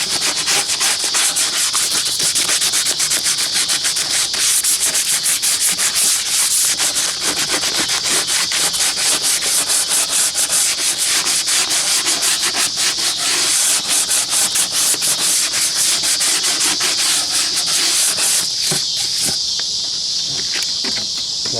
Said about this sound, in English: Take a little bit of sandpaper and then just go around the edge.